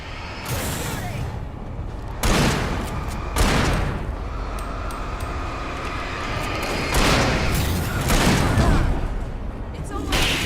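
Gunfire in the video game Alan Wake: several loud, booming shots burst out at intervals over a constant wash of game noise.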